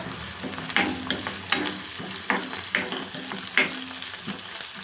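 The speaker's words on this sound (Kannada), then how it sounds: "ನಾನಿಲ್ಲಿ ಗೋಡಂಬಿನ ಆ್ಯಡ್ ಮಾಡ್ಕೊತಾ ಇದ್ದೀನಿ. ಇವಾಗ ಇದನ್ನು ಕ್ಲೀನಾಗಿ ಫ್ರೈ ಮಾಡ್ಕೊಳ್ಳೋಣ" Cashews fry in a pan of hot oil for a chicken masala gravy, giving a steady close sizzle broken by repeated sharp spatula scrapes and stirring clatters.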